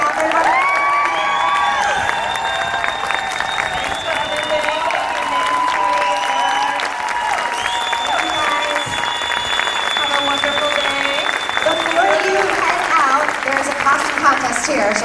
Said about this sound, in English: Let's give a big round of applause to Catherine Hardwicke.